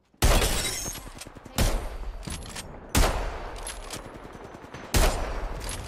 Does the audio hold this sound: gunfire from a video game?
yes